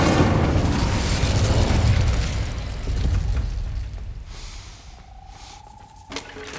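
In the wizarding game Hogwarts Legacy, an Incendio fire spell goes off with a loud, rumbling burst of flame and roar that slowly fades, followed by a few faint clinks and a thin high tone.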